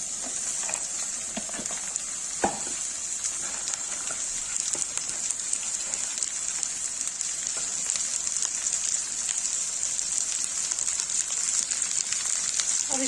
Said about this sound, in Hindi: अब इसे भिंडी डाल देंगे।